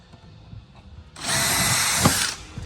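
A power drill whirs up abruptly and runs for about a second, countersinking holes in aluminium wing parts for a Sling high-wing aircraft build, loud and close after quiet workshop background.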